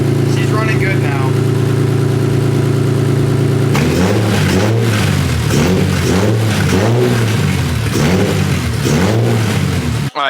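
BMW E30 with a swapped S54 inline-six and open header, idling steadily, then revved hard in repeated loud rising and falling bursts, close and raw from start to finish.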